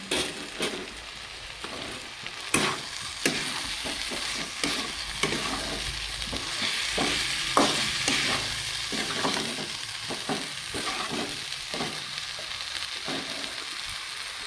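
Boiled mixed vegetables and broccoli sizzling in a pan for a restaurant-style mix veg dish, with a steady fry hiss and frequent scraping stirs of a spoon, close and fairly loud, no talking.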